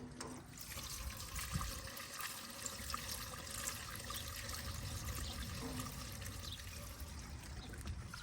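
Race fuel pours steadily into a Manta car's tank in a continuous, soft gurgling trickle, close by and fairly quiet, with no talking.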